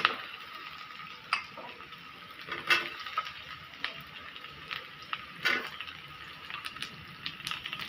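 Cut potato pieces go into hot oil with onions and start frying, a continuous soft sizzle broken by intermittent clatters and stirring scrapes in the pan.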